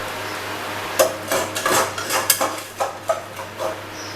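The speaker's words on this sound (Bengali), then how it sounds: "মশলাটার সাথে পটলগুলো ভালো করে মিশিয়ে দেব, যাতে মশলাটা পুরো পটলের মধ্যে ঢুকে যায়" A spoon clatters and scrapes in a pan as pointed gourd (potol) is mixed with spice paste, giving irregular close metallic knocks and rubbing over a steady low hum.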